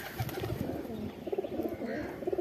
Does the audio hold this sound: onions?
no